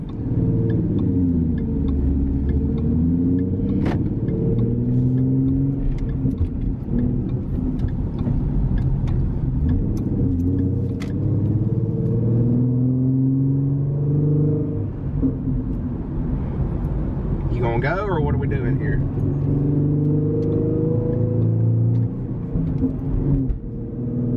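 Stick-shift sports car engine droning steadily while driving, a continuous close, loud mid-range rumble with gentle rises in revs and no talking.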